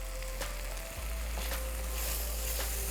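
Spice paste sizzles in a pan for a Tamilian fish curry, a steady close crackle and hiss with faint stirring scrapes and no voices.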